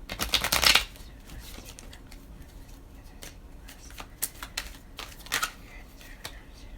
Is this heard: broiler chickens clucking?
no